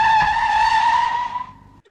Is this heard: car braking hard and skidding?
yes